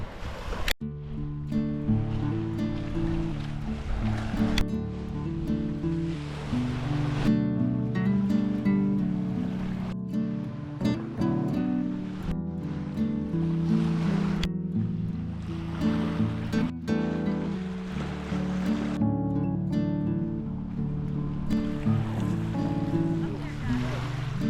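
Steady surf washing onto the beach at Half Moon Bay on the Sunshine Coast of British Columbia, a continuous rolling wash that swells and eases over the whole stretch, with some wind.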